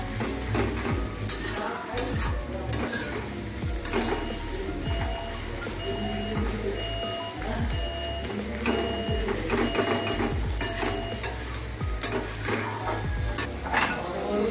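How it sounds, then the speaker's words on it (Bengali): Onions are sautéed in a pan, giving steady sizzling with scraping stirs over a continuous background hum, moderately loud throughout, with occasional bird calls in the distance. "পেঁয়াজটাকে ভালো করে কষে নেওয়া হবে।"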